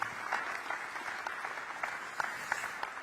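Sustained audience applause from a crowd at a Korean community gathering with President Lee Jae-myung in Singapore, a steady, dense wash of many hands clapping at moderate volume with occasional sharper claps, no talking.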